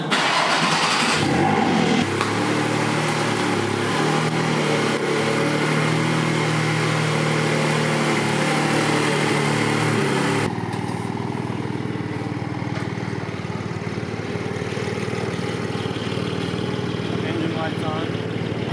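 A 2021 Porsche GT4 with hidden frame damage cranks and fires, its engine note loud and close, then settles into a steadier idle as a voice talks over it.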